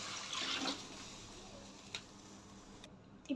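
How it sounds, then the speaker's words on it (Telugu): Water is poured into a frying kanagadathalu fish curry seasoned with chili powder and salt, giving a short splashing rush near the start that settles into a faint, steady simmer with a few small clicks. "ఇలా ఫ్రై అయిన తర్వాత ఇందులోకి వాటర్ వేసుకోవాలి"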